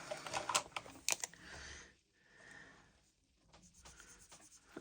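Pen scratching out a number on paper, a few short bursts of scribbling strokes with quiet pauses between, close by and soft.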